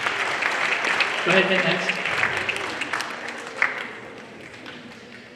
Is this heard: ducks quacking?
no